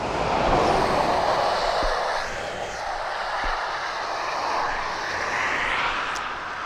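An aircraft at East Midlands Airport, a broad, steady engine roar that swells slightly and holds throughout, heard from a distance with no talking.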